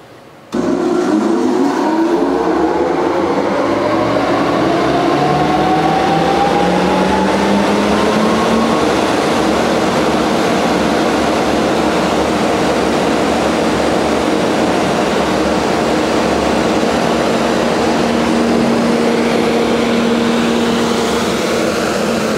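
A Nordfab 9000 CFM, 20 HP dust collector blower starts up with a thump and spools up, its whine rising in pitch, then settles into a loud, steady industrial roar with no talking.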